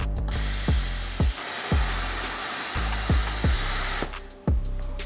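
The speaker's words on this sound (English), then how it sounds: "I'm just going to go ahead and make a little pilot arc on this back end" A Cutmaster 70+ plasma cutter strikes a pilot arc and cuts into metal, giving a loud, steady hiss broken by a series of sharp, regular clicks and pops, with no talking.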